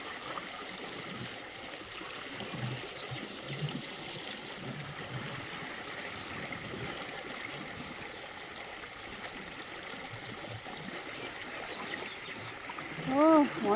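A strong river current pulls against a fishing net as it is hauled in. Close, steady rushing water hisses throughout, with faint voices underneath and a brief chirp near the end.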